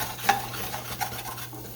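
A utensil stirs flour browning in a hot pan, giving a soft, steady scraping with a couple of sharper clinks against the metal over a faint sizzle, close by and with no talking.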